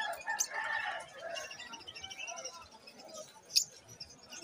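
Pet birds chirp and call at a busy Malabon market, with short bright tweets and clucking calls scattered over a steady background murmur of crowd noise, including one sharp chirp near the end.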